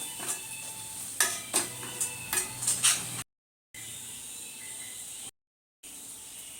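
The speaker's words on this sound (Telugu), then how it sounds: "ఇది బాగా పచ్చవాసన పోయేంత వరకు వేయించుకోవాలి" Ground spices sizzle and get stirred in a pan while cooking Andhra-style pomfret fish curry, with coriander seeds, poppy seed powder and cardamom. Soft, close hissing runs under sharp scraping clinks, broken by two brief silent gaps.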